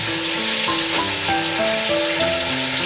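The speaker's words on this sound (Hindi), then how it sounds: "गोश्त को अच्छे से ज़रा भून लेना है" Meat sizzles and fries loudly in oil in a pan while being browned for nihari. The crackle is dense and continuous, with faint stirring and clinking, and no talking.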